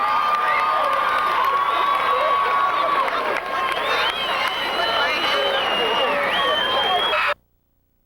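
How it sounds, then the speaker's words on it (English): A school gym crowd at a 1999 court event breaks into loud, sustained applause mixed with cheering and high excited shouts, holding steady for about seven seconds before cutting off abruptly. "let's give them a round of applause"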